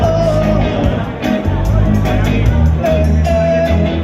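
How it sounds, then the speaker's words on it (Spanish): A roadside crowd at the finish stretch of a 10k road race in Alcañiz cheers, whoops and claps for passing runners, a loud continuous babble with shouts rising above it. "seguimos aplaudiendo, seguimos animando a estos atletas"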